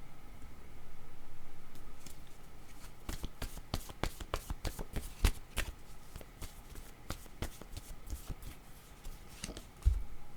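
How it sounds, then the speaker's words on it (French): Playing cards being shuffled for a tarot-style card reading, a run of quick crisp riffles and flicks in close succession, fairly close and alone, with a couple of sharper snaps near the end. "je vais demander une carte mot."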